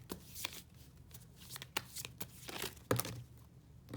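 Tarot cards are shuffled by hand before a card is drawn: a run of crisp papery riffles and soft flicks, close and fairly quiet, with no talk over it.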